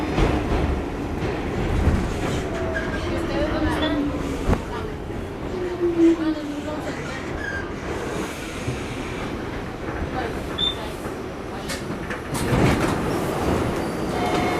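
Rumbling New York W line subway car in motion, wheels clattering and screeching along the rails, with a brief loud burst near the end.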